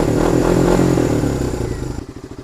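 An ATV four-wheeler engine runs loud and close on a boat ramp, a steady mid-pitched rumble that eases down into a slower, pulsing idle with audible individual firing beats.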